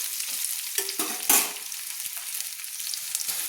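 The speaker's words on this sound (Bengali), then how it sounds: "আমি কি সুন্দর আলুগুলো নেড়ে নিচ্ছি" Potatoes sizzle as they fry in a pan, a constant crackle broken by several scraping stirs and one louder clatter near the middle, close up and without speech.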